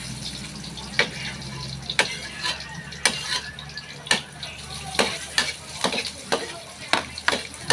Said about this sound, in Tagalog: Gigisa na naman po tayo ng ating mga sahog. Bawang at luya.